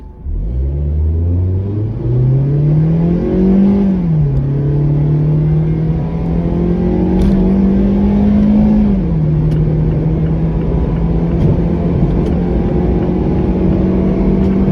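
A 2018 Mazda MX-5 Miata accelerates hard, its engine note climbing steadily through the gears with brief dips at each shift, loud and close throughout with no talking.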